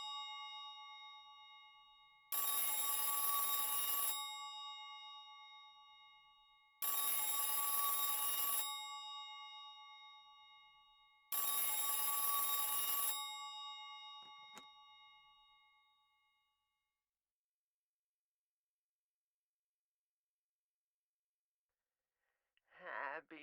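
Telephone in the Silent Hill 3 video game rings in three loud, evenly spaced electronic bursts that each decay, then silence before a brief voice at the end.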